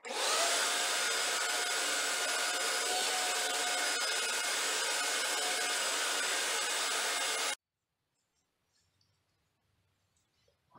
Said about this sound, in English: So using a vacuum cleaner,